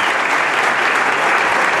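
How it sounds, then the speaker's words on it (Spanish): Audience applause for a cultural coordinator at a Colombian music tribute event, a steady dense wash of clapping lasting the whole stretch with no talk over it. "Un aplauso para Liliana Parra"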